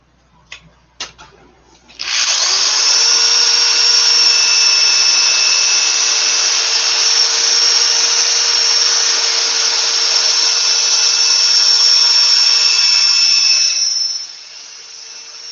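A wooden square bowl spinning on a lathe is sanded with 240-grit paper, a loud steady whirring hiss with a constant whine that starts after a few faint knocks and runs unbroken for about twelve seconds before fading.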